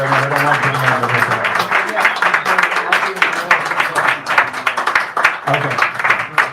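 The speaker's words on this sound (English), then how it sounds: "Give them a round of applause as you come here" An audience claps loudly and steadily as people come up to the front, the applause running continuously beneath voices talking over it.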